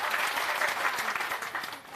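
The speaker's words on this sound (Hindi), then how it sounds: "जोरदार ताली हो जाए" Steady applause from a meeting audience of panchayat committee members at an ashram in Bihar, dense clapping at moderate distance that fades slightly near the end.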